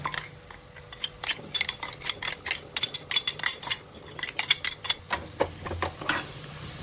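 A spoon mixes ground biryani masala in a metal vessel, quick irregular clinks and scrapes repeating close by, with no talk.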